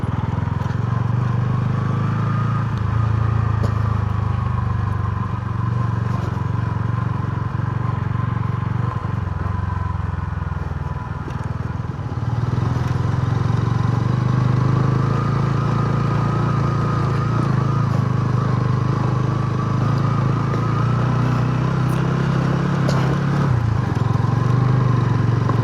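A motorcycle rolling slowly in first gear over rough, uneven ground, its engine a steady low drone up close that rises and falls slightly, with light clatter now and then.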